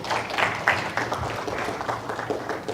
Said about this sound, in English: Give the young man a round of applause.